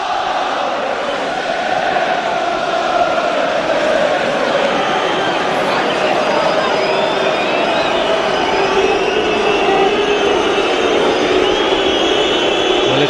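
Football crowd at a Manchester United vs Portsmouth match, a loud continuous roar of stadium noise that holds steady throughout, with a commentator talking over it.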